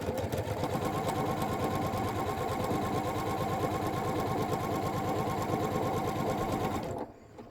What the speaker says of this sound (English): we're gonna put right sides together and we're gonna stitch all along that edge there